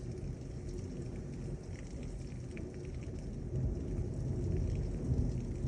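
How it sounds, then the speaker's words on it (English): A severe thunderstorm with quarter-sized hail and high winds in Lubbock delivers steady heavy rain with a low rumbling undertone of thunder, faint and continuous, growing slightly louder toward the end. "The thunderclaps in this storm are insane. Oh, here's the heavy rain."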